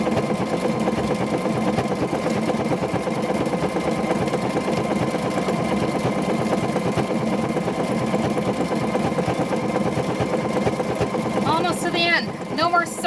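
A sewing machine runs steadily while stitching a fun car seat cover, a continuous close mechanical whir held for most of the stretch before stopping near the end, where a few brief voices break in.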